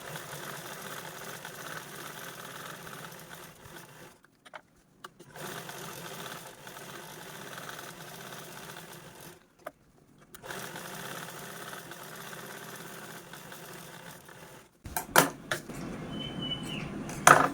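A sewing machine quilts crosswise stitch lines onto a fabric bag. Its motor drones steadily in runs of several seconds, broken by brief pauses, then turns more clattery and uneven near the end. It is close but fairly quiet, with no talk.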